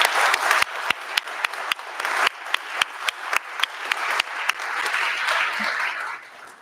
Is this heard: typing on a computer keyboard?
no